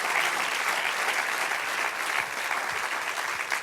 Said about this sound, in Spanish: Un aplauso al Señor, amén.